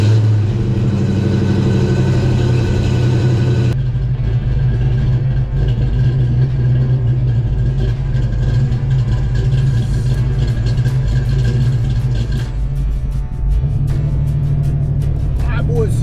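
A Fox body Mustang's V8 rumbles loud and close, its engine note rising and falling as it revs and pulls away on the road, with gear changes and steady driving drone.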